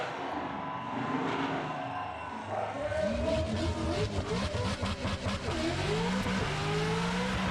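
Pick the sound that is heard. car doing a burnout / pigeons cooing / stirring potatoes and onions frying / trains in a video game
car doing a burnout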